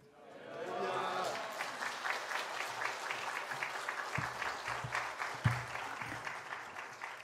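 A large church congregation claps in a sustained wave of applause that swells quickly and holds steady, with some voices mixed in and a few low thumps near the end.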